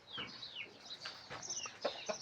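Chickens cluck and squawk close by in a quick, busy run of calls, some rising and falling, over a soft outdoor background with no talk.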